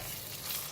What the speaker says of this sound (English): Just cook the egg.